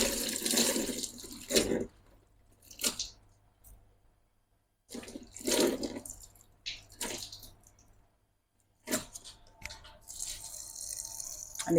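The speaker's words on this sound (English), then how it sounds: "And this is the third and final rinse." Jasmine rice is swished and rinsed in water, with bursts of sloshing, splashing and pouring separated by quiet gaps, close to the microphone and without talking.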